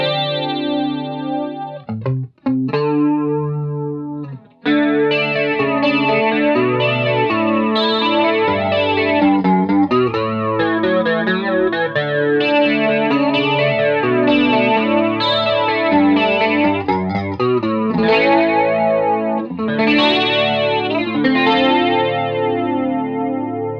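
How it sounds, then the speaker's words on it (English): Electric guitar chord through an analog Electric Mistress-style flanger pedal on a boutique pedalboard, strummed and held with a sweeping, whooshing jet-like swirl that rises and falls, loud and continuous with no speech. "Is the only flanger I ever really want on the board."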